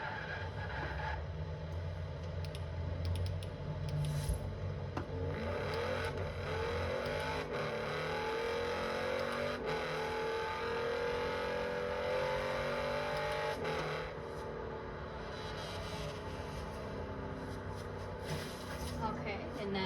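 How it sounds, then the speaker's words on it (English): Lamborghini Urus cabin sound at highway speed, a steady muffled engine hum with road and tyre roar, a slow rising engine tone midway, continuous and moderately loud throughout. "It's a pretty quiet car on the inside."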